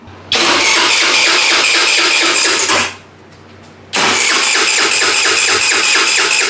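An abandoned thrift-store scooter's engine is cranked for its first startup, with two loud rhythmic chugging bursts of about three seconds each, separated by a short pause, close by.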